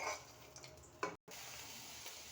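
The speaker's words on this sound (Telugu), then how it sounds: "టమాటాలు అనేవి రోస్ట్ చేసుకుందాం" Tomatoes roast in a pan with oil, a faint hissing sizzle with soft stirring scrapes and a brief clink, quiet and close.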